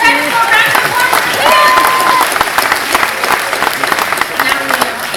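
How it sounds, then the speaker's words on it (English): An audience applauds for several seconds, a dense, steady burst of clapping from a crowd with a few scattered voices mixed in. "Round of applause."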